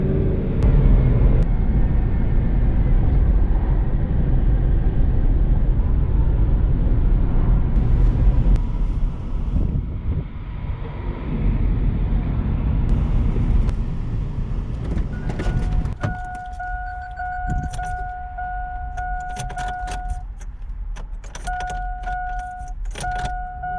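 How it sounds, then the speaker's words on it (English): Road traffic heard from inside a moving car during a delivery drive: steady loud engine and road rumble, then a quieter stretch with a repeating electronic chime, and no talking. "Man, this traffic just does not want to let up."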